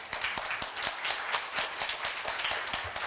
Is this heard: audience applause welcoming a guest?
yes